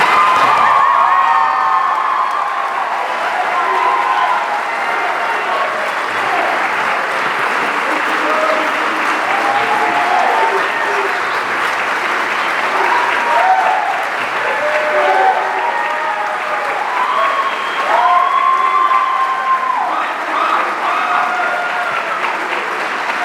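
Loud, sustained applause fills a college honors convocation hall, with cheers, whoops and shouting voices rising over the dense clapping the whole way through.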